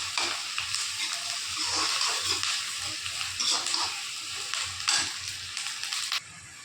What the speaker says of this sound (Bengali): তোমরা দেখতে পাচ্ছ পেঁয়াজটা আমি হালকাই ভেজে নিলাম, বেশি ভাজবো না